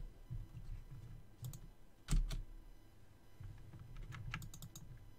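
A few sharp computer keyboard key clicks, including backspace presses, tapped in short bursts over a low steady hum during a Medieval II Total War session, with no talking.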